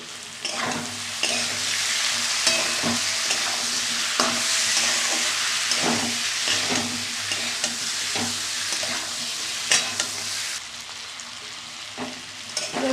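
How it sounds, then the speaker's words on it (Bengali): A vegetable curry with tomato sautéing in a pan, loud continuous sizzling and frying broken by repeated scraping and stirring strokes at a steady, uneven rhythm, heard up close with no talk. "আবারও একটু কষিয়ে নেবো ভালো করে। একটা টমেটো দিয়ে দিলাম।"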